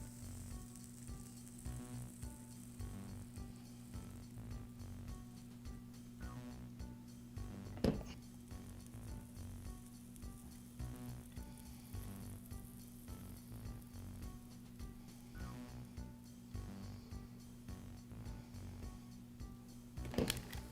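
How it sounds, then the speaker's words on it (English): Wires are soldered back onto the motor of a Milwaukee Hackzall reciprocating saw, with flux applied. A faint, steady sizzling hiss runs over a low electrical hum, broken by a couple of soft clicks. "I'll heat the connection and solder the wires back to the motor."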